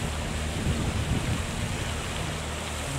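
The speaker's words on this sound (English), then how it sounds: "There's a huge amount of water pouring out there, look at that." A huge volume of water pours out, a constant loud, broadband roar of gushing water that stays steady throughout with no voices.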